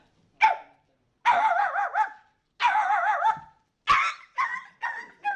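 A voice imitates a sick dog's whimpering and yelping: a short yelp, then two long wavering whines, followed by several quick choppy whimpers, close and fairly loud.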